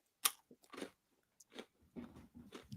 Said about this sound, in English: You got to chew louder into it.